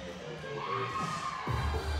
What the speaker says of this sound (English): Juice, it's probably all that excitement and cheering that we're hearing